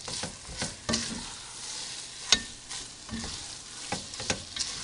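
Garlic and tomato paste cooking over medium-high heat for homemade spaghetti and meatballs, a continuous close sizzle broken by repeated scraping stirs and spoon clacks against the pan.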